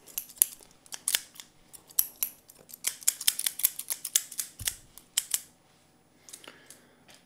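Steel barber scissors snip repeatedly in a close haircut, crisp metallic clicks in irregular bursts, dense through the middle and thinning toward the end, with no talking.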